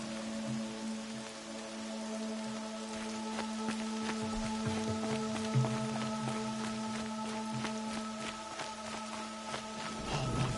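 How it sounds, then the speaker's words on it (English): Steady rain in the video game Horizon Zero Dawn: The Frozen Wilds patters on surfaces over a sustained tonal hum, continuous and moderately loud, with scattered heavier drops. "More rain."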